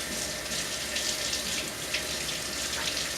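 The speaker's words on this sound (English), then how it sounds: "So let me rinse my hands quick here," Water from a running tap pours steadily over hands in a kitchen sink, a continuous close hiss and splash throughout with no talking.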